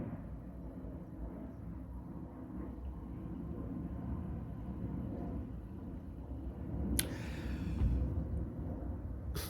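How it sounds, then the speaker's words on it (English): A distant airplane rumbles steadily overhead, a low continuous drone that swells slightly near the end, with a brief rustle partway through. "this aeroplane sound"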